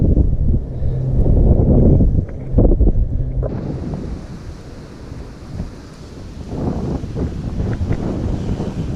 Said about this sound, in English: It's windy up here today.